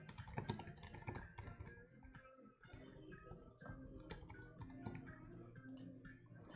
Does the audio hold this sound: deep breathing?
no